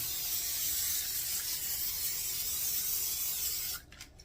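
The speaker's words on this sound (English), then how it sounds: "I've got corn tortillas set out, and we're going to spray it with oil" A steady, close hiss of an aerosol oil spray on corn tortillas runs for several seconds, then cuts off, leaving a few faint clicks.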